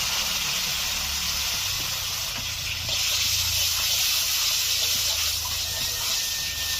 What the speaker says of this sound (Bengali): তেল গরম হয়ে গেছে, দিয়ে দিচ্ছি কালো জিরে, দিয়ে দিচ্ছি পোস্ত বাটা